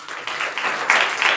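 A church congregation at a Sunday service claps hands together, a dense run of overlapping claps that builds in loudness over a brief moment, with no talking over it.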